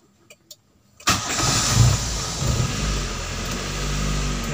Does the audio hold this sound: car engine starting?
yes